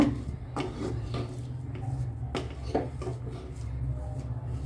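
A utensil stirs ragi flour dough in a pan on a stove for ragi idiyappam, making repeated scraping and knocking strokes at an uneven pace over a steady low hum, with no speech.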